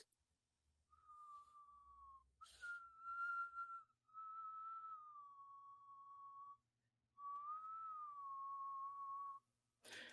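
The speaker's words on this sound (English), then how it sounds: "this sort of odd dual tone whistle" Several long, clear whistled tones, each sliding slightly in pitch, separated by short pauses, with a few faint rustles and clicks in a quiet setting.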